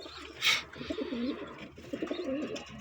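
Pigeons coo softly nearby in low, throaty rolling calls, a few overlapping phrases, with a brief brighter chirp near the start.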